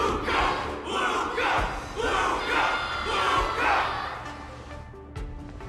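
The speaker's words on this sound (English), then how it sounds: "Can't you hear? Everyone's cheering for you, Luca!" A large crowd roars and cheers in rising, rhythmic waves, like a battle cry, loud and continuous for several seconds before easing off near the end.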